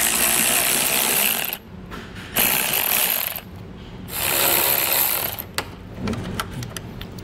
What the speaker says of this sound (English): So now using a 10 millimeter socket, we're gonna go ahead, there should be 6 additional screws here on each side.